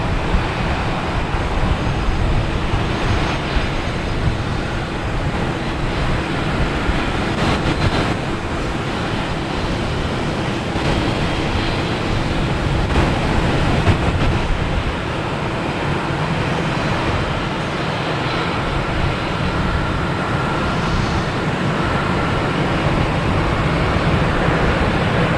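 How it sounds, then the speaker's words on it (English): Delta Airbus A321 jet landing at Boston Logan Airport, a long loud roar of engines and rushing air that holds steady for over twenty seconds with no voices. "Next landing is Delta, an A321 coming in from Las Vegas"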